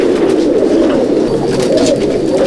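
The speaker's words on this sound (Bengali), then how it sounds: "দেখুন চারিদিকে যেদিকে তাকাবেন শুধু পায়রা পায়রা" Many pigeons at a pigeon loft, a thick, continuous mass of low cooing and throaty burbling from a crowd of birds close by, loud and unbroken.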